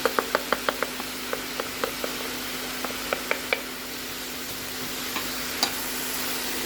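Green beans fry in a pan of olive oil as seasoning goes in, giving a steady hiss with a quick run of light clicks and taps from stirring early on, then fading to plain sizzle.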